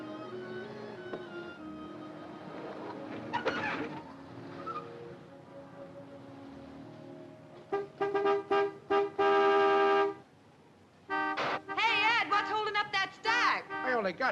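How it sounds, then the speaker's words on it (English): A car horn honks from outside in repeated short blasts and then longer sustained ones, coming in bursts after a stretch of quieter room sound and talk. "Some horn-happy creep just pulled in. Let him honk."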